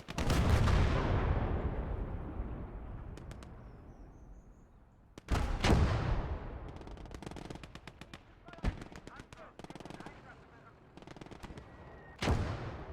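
Gates of Hell video game battle: booming artillery blasts and scattered gunshots crack out at intervals over faint background din, with a few sharp, loud reports standing out.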